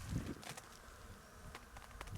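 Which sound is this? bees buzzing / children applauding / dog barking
bees buzzing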